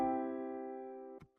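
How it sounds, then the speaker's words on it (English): A single sustained piano chord from a mixed song track, ringing and slowly decaying alone, followed by a brief soft thump just before the end. "Grandma's piano sounds like this"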